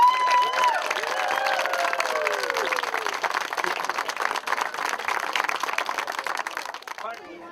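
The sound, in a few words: applause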